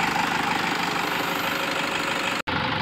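Toyota Innova diesel engine idling while warming up before a tune-up, a steady close knocking clatter that continues evenly and then cuts out briefly near the end.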